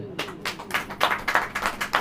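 A church congregation claps hands together in a steady, rhythmic beat of sharp claps, close and fairly loud, with a few voices mixed in.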